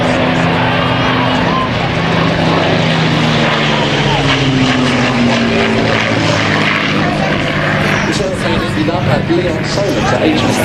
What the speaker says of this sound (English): you can hear the wonderful sound of that Rolls-Royce Kestrel engine.